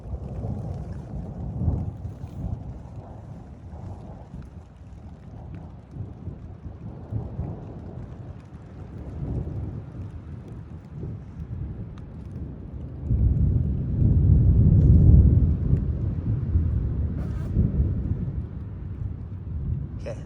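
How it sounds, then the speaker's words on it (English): Deep thunder from a single lightning strike rumbles on and on in Yellowstone National Park, rolling and echoing in low waves that swell louder toward the end, with rain faintly beneath and no voices. "That was one lightning strike, and the echo from it just keeps going back and forth"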